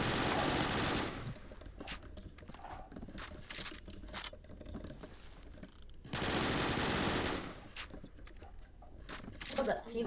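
A P90 submachine gun in a video game fires in long, fast automatic bursts: one at the start, a shorter spell of scattered shots in the middle, then another sustained burst, close and loud, with talk between volleys.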